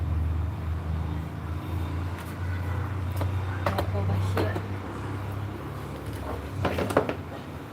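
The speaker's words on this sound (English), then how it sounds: "But I know you can hear the traffic noise." Steady low rumble of road traffic outdoors runs under the whole scene, with a few louder passing-vehicle swells, while a person talks nearby over it.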